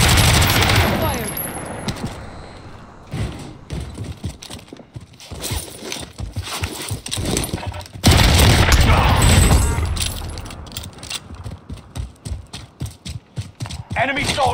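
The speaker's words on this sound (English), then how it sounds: "Receiving hostile fire." Gunfire in Call of Duty Warzone during a Rebirth Blood Money quads match, loud bursts of automatic fire and booming shots in rapid clusters, with in-game voice callouts mixed in.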